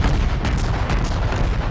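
Heavy naval gunfire in a World of Warships battle against battleships: continuous loud booming and rumbling salvos with dense low-end roar and overlapping blasts throughout, no voices.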